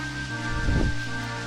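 Rain falls in the Ys 5 video game as a steady, dense hiss, swelling briefly louder near the middle of a short stretch.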